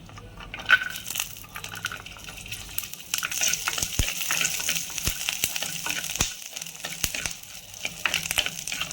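Ten to twenty garlic cloves dropped into hot oil for a Tamil-style kuzhambu, a soft start that swells into a steady crackling sizzle with sharp pops and utensil knocks, fairly close and without speech.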